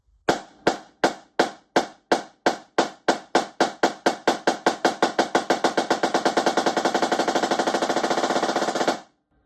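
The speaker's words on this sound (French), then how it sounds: "Ce sont des coups simples." Drum single-stroke rudiment played on a drumline drum, starting with slow, widely spaced loud hits and steadily accelerating into a dense, fast even roll, dropping slightly in volume before stopping abruptly.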